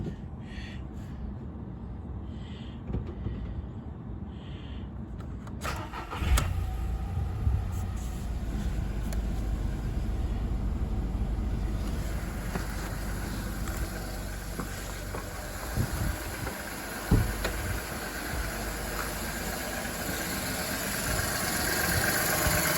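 A Škoda Fabia 1.2 6v (BBM) engine with a newly replaced alternator belt tensioner cranks and catches partway through, then settles into a steady, rumbling idle that runs on loudly with no talking.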